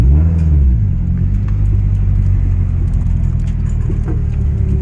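A Nissan 240SX engine runs loud and close with a steady low rumble, a brief rise in pitch at the very start, then settles into an even idle-like drone throughout.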